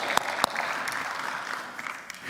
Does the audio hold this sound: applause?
yes